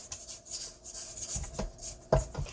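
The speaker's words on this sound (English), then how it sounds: "Let's scrape that down again. We want to scrape it down. Get all of that off of there." Spatula scraping chocolate chip cookie dough, made with dark brown sugar, down the sides of a mixing bowl: soft close rubbing strokes with a sharper knock near the end.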